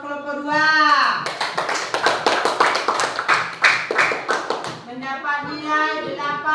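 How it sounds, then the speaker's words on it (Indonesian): Group 2 gets a burst of classroom clapping, dense and rapid taps filling most of the stretch, with a voice and talk audible at the start and end. "Tepuk tangan buat kelompok 2"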